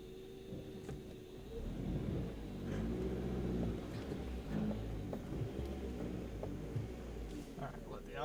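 A Toyota Rav4 engine revs while the car reverses, a close rumbling drone that rises and wavers through several throttle swells, with talk over it.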